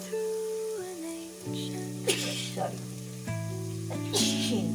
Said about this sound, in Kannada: ಈರುಳ್ಳಿ ಬೇಗ ಫ್ರೈ ಆಗಲಿಕ್ಕೆ